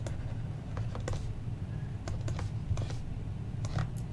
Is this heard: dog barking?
no